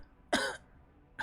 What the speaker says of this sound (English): And you start hearing like a cough.